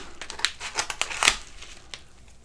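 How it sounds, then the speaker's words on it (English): Scissors snip and slice open a package, giving a quick run of crisp crinkling cuts and rustles, close and fairly quiet, fading out toward the end. "Cut it with the scissors."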